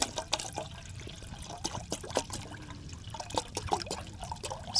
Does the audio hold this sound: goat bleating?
no